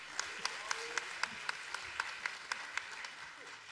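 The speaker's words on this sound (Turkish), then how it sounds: "Alkışlarımızla." An audience applauds at a Turkish radio station launch gala, steady moderate clapping with a few distinct nearer claps standing out rhythmically above the crowd.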